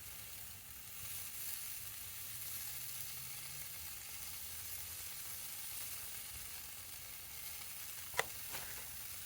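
A quesadilla of tortillas layered with mozzarella cheese cooks in a pan, giving a soft, steady sizzle that stays faint throughout, with a brief utensil clink near the end.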